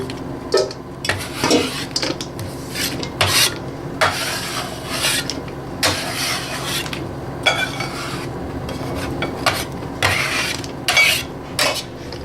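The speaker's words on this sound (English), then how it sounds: "we're going to put all these potatoes into the mixing bowl" Potatoes are tipped and scraped into a mixing bowl, a steady run of close rubbing and scraping sounds in repeated bursts with brief lulls between them.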